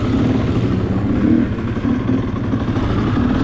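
A three-wheeler built with an ATV front end and a street bike rear end and engine runs loudly and close, a steady buzzing drone with slight rises and dips, at a spring mini-bike event.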